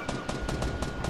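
Rapid automatic gunfire from a Fortnite match, a steady stream of evenly spaced shots lasting about a second, loud and close with no talk over it.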